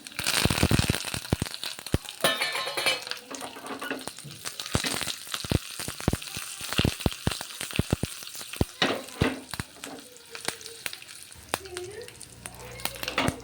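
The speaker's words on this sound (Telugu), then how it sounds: "కరివేపాకు చిట్టుపట్టు చిట్టుపట్టు అంటుంది" Curry leaves, dried red chillies and garlic crackle and sizzle in hot oil for a bottle gourd chutney, sharp pops and spits over a steady fry, close by, with a few stirring knocks.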